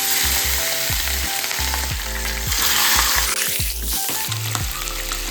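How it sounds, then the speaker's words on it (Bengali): Fish heads sizzle loudly in hot oil in a pan, a dense, continuous crackle up close. "তেল রেডি হয়ে গেছে, এবার মাছের মাথাগুলোকে ফ্রাই করে নেব।"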